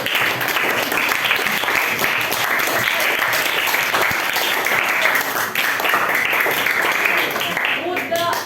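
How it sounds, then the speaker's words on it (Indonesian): Students in a classroom clap loudly and continuously for a student group. The dense applause fills the whole stretch before tapering slightly at the very end. "kita tepuk tangan pada kelompok yang berkonflik"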